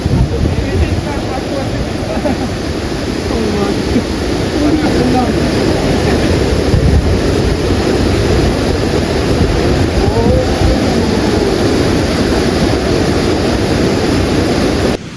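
A big waterfall in Andhra Pradesh during rain season, a loud, dense, continuous roar of rushing water close by, with wind buffeting the microphone.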